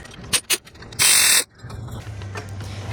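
Ratchet on a 12 mm engine mount bracket bolt of a Kia Sportage during timing belt work, a couple of short clicks followed by one loud rapid ratcheting burst, then low rumbling.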